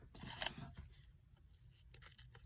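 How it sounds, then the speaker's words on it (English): Scissors snip through paper pieces for a collage: a few quiet, close cuts with crisp rustling, faint overall and with no talking. "Okay, I need my other scissors. All right, let's get these cut out real quick."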